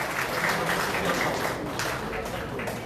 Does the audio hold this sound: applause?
yes